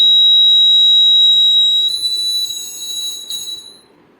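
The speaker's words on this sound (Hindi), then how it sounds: "फिर कितना ही अंधेरा कर लीजिए ये अलार्म ऑफ नहीं होगा।" A piercing electronic anti-theft alarm with a light sensor sounds steadily and loudly, then wavers and pulses before fading out.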